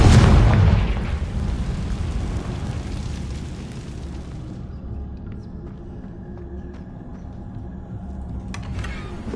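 A Confringo blasting spell from Hogwarts Legacy on PS5 goes off in a loud, close explosive boom, then fades into a long rumbling tail with no voices.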